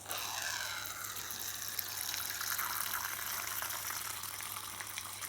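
A water sprayer fills a small plastic water dish in a scorpion enclosure, giving a close, steady hiss and trickle of liquid that runs without a break and without speech.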